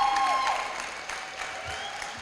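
A banquet audience at an educator of the year event applauds briefly for a supervisor, a diffuse wash of clapping with a faint tone near the start.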